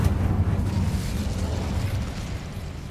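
The Incendio fire spell is cast in the Hogwarts Legacy video game, giving a dense, low, rumbling burst that starts loud and gradually fades over a few seconds, with no voices.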